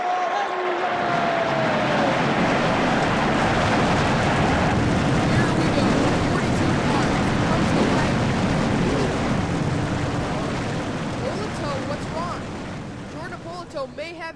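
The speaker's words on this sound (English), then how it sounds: "Drivers, start your engines!" Race car engines fire up together at Daytona for the Daytona 500 in a racing video game, a dense, loud, continuous roar that holds for over ten seconds before easing slightly, with a voice talking over it.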